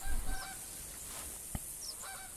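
Canada geese honk a few times at a distance in the hunting game theHunter, short nasal calls scattered over a quiet outdoor ambience, with one sharp gunshot thump partway through.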